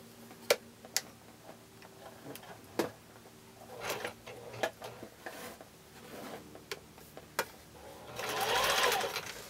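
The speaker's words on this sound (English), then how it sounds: "we can bring it over to the sewing machine" Quiet sewing machine stitching quilt block pieces, heard as sparse ticking clicks and short mechanical bursts, ending in a brief louder run of stitching.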